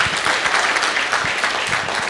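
An audience claps in a room, dense and continuous applause throughout, loud and close with no speech.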